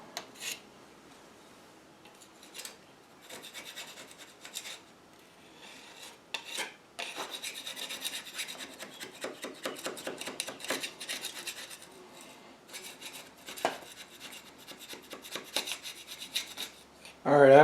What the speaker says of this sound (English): So you just want to take like a scraper and just kind of scrape it all off.